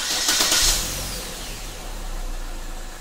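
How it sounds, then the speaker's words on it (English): A Chevrolet Cruze engine starts by remote start, with a cranking burst followed by a steady low idle rumble close by, no talking. "To start the vehicle, press and hold the button."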